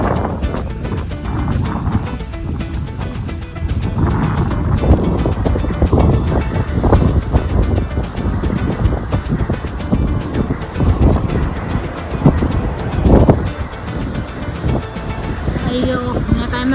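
Strong wind buffets the microphone in a continuous roar, with gusts rising and falling throughout; traffic rumbles faintly beneath.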